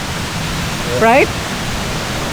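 Kathu Waterfall in Phuket, Thailand gives a steady, even rush of falling water that fills the whole clip, with a brief voice speaking over it partway through.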